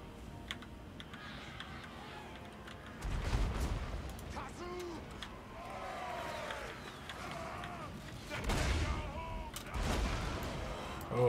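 Deep booming cannon volleys from a Total War battle in the Clan Angrund campaign rumble out in two heavy bursts, set against constant battlefield noise and close keyboard clicking.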